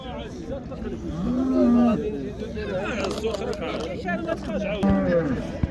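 Cattle moo repeatedly at a busy livestock market, with several low, drawn-out calls heard close by over a steady crowd murmur, while people talk throughout.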